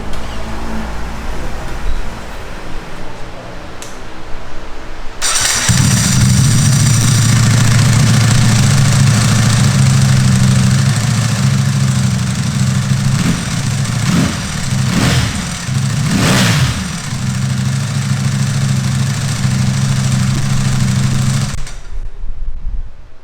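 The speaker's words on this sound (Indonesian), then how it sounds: "sekarang kita cobain dengerin dari suara motor ini" A Ducati Superleggera V4 1000cc superbike engine idles with a deep, throbbing burble, then revs sharply several times in quick bursts before settling back, loud and close.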